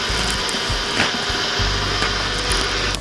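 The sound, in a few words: blender blending green chutney ingredients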